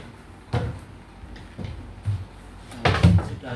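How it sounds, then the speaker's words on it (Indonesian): A side door of a two-door, two-drawer wardrobe is fitted during assembly. Four or five hollow wooden knocks and thumps come at irregular intervals, the last ones loudest, over a quiet room. "Lalu kita pasang pintu sisi satunya."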